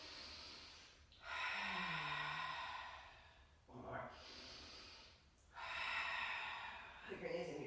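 Deep audible breaths during a slow yoga roll-down in a breath-focused flow class, three long drawn inhales and exhales with soft gasping edges, close and clear.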